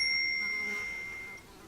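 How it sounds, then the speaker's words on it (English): An old telephone's bell, out of adjustment, gives a single thin ringing ding that hangs on and slowly fades over a steady background hiss. "bell needs adjustment."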